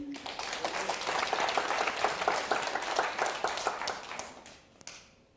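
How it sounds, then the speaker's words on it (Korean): Audience applause at a Korean hair styling contest, dense steady clapping from many hands that gradually thins and fades out near the end. "자, 박수 한번 주시죠."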